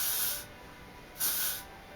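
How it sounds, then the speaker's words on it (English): An aerosol L'Oreal Elnet hairspray hisses in two short bursts, close and crisp, with a brief pause between them. "you just spray it like this"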